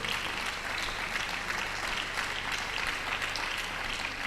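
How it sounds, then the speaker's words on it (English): An audience at an annual university seminar applauds the Vice Chancellor with dense, sustained clapping that stays steady throughout. "Can we put our hands together for the Vice Chancellor? I want you to clap very well."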